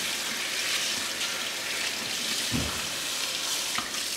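Someone scrubs the wet foam filter of a Shark Rotator Professional vacuum with dishwasher detergent, producing a steady, close, watery squishing and rubbing hiss with a couple of louder squelches.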